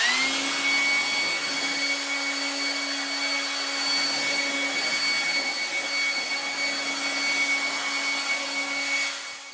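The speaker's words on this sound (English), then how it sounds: "Jenny's going to start by blowing the leaves and debris off the deck" A leaf blower clearing leaves and debris off a deck roars steadily and loudly up close, a constant high-pitched whine that holds for several seconds and then eases slightly near the end.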